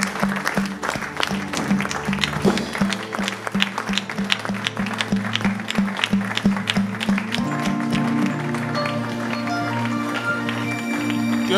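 A church congregation applauds and acclaims in worship, with steady rhythmic clapping over a musical backing, voices and instruments filling the hall in a lively, continuous stretch.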